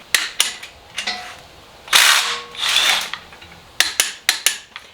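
A torque wrench clicks sharply several times while an engine mount bolt is tightened during a Cummins diesel swap into an OBS Ford truck, giving close, crisp ratchet clicks in short bursts with brief louder ratcheting passes between them.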